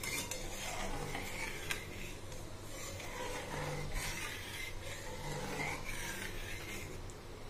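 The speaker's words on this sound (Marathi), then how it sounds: "आपण कमी हीटवर याला सारखं हलवत राहणार आहोत" A coconut kharvas mixture with cornflour is stirred steadily in a pan over low heat, giving continuous scraping and light metallic clinks of the spoon against the pan.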